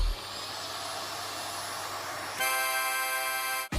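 A vacuum harmonica played on a TV: a whooshing, motor-like airy drone first, then sustained buzzy organ-like chord tones that sound for over a second before cutting off abruptly.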